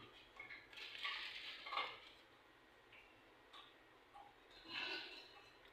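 A metal baking pan for a smoked cake is handled in a home kitchen, giving a few quiet clinks and scrapes in short irregular bursts against near silence.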